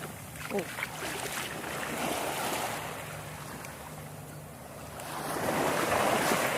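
Sea waves wash steadily onto a beach at Ao Nang in Krabi, a broad continuous surf rush with wind buffeting the microphone and swelling louder toward the end.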